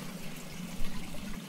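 Pumped water from a lignite mine pours out of a pipe at the source of a small stream, a steady close rushing flow with no voices.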